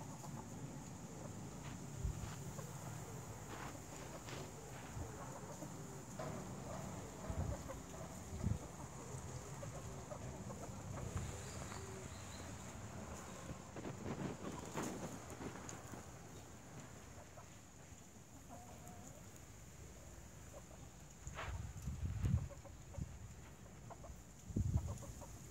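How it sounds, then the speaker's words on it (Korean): Free-range chickens, including two roosters, cluck and call outdoors in a steady scattered chorus of near and farther birds, with occasional louder squawks and a faint steady insect-like whine in the background. "방목하는 닭입니다."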